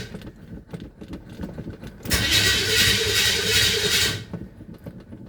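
A 1978 Chevy C10 pickup with an Edelbrock carburetor, unstarted for months, cranks for about two seconds in a loud, steady grinding whir, then stops; faint clicks and handling noise come before and after.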